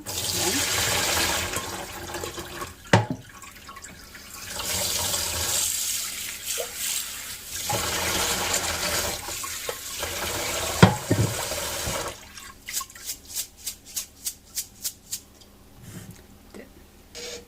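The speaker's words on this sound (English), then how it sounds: "strain the water." Rinsed rice is drained in a kitchen sink, with bursts of pouring water and splashes between quieter pauses, then a quick series of rhythmic taps and shakes near the end as the last water is strained off.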